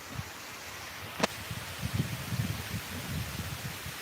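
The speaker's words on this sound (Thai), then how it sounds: "อำเภอสีเทพ ลมแรงมาก ๆ ครับ" Strong wind blowing outdoors in rural Si Thep district, Thailand, giving a constant low rustling roar with uneven gusts, one sharp click near the start, and no talking.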